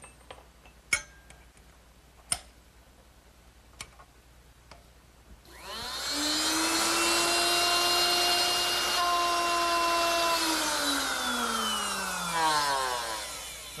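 A wood router fitted with a dovetail bit cuts wood for a candle stand. A few sharp clicks come first, then the motor starts with a loud, steady whine that holds for several seconds before winding down in pitch.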